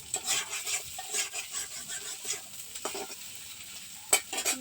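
An egg fries in a pan in a home kitchen, a soft crackling sizzle broken by repeated spatula scrapes and stirring, fairly quiet and close, with no voices.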